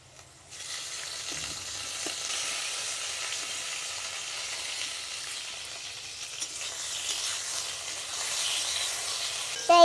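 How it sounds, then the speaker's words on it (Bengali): Potatoes and tomatoes frying in a pan while being stirred, a continuous soft hiss and sizzle over about ten seconds with occasional small clinks of the spoon and a louder knock at the very end; no speech. "এই যে টমেটো আর আলু এইগুলিকে এখন একটু কিছু সময় ধরে নাড়াচাড়া করব"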